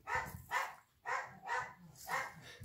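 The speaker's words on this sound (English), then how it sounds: "it's the only time she barks" A pet dog barks in a steady series of five or six sharp barks, fairly close, indoors as someone arrives home.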